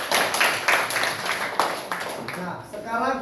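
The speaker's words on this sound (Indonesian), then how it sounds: "Semuanya tepuk tangan dulu untuk kelompok berikutnya." Junior high school students in a classroom clap together for the next group, a dense burst of hand claps that stays steady and loud before thinning out near the end.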